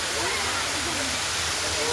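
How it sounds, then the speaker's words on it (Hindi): A strong waterfall at a zoo water park in Patna pours with a loud, steady roaring rush, a dense continuous wash of falling water, while someone talks faintly beneath it. "देखिए बहुत बेजोर है, पानी गिर रहा है"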